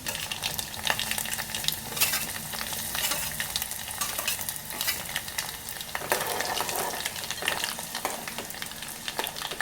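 Dried red chillies frying in a garlic tempering of hot oil for tamarind rasam, a continuous close crackling sizzle with scattered pops and occasional stirring scrapes throughout.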